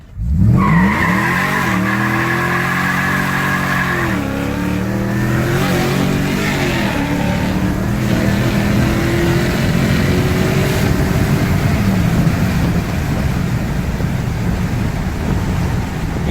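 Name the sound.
2012 Toyota Tundra TRD Sport 600+HP truck accelerating hard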